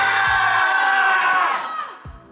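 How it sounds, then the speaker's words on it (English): Acting class members let out one big group scream together, a loud sustained burst of many voices that fades out toward the end. "And then do one big scream together."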